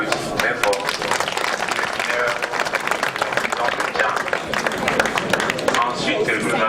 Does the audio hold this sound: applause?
yes